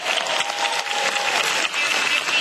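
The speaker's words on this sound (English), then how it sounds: "Big round of applause for Netflix." Steady applause from a large audience at a WonderCon convention panel, continuous clapping filling the whole moment without pause.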